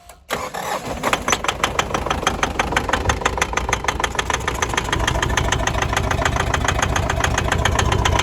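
A 3.2-litre 4M41 diesel in a Mitsubishi Pajero, thought to have a burnt piston in one cylinder, cranks and catches, then idles loudly up close with a steady, uneven rhythmic knock.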